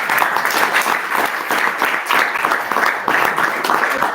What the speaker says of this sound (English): Maybe a round of applause for the seniors